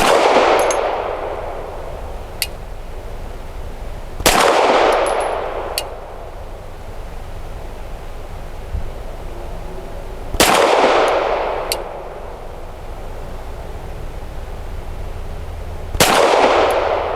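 A Canik SFx Rival S pistol firing Nosler ASP rounds at a target seven yards away: four loud, sharp reports spaced several seconds apart, each ringing briefly before fading, with faint metallic pings between shots.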